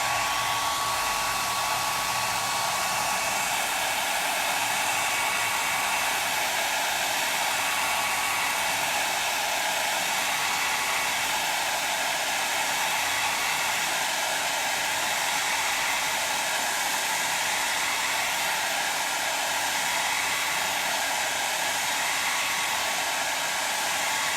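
A hair dryer runs steadily at close range, drying a freshly applied transfer, with a continuous loud airy whoosh and no voices throughout.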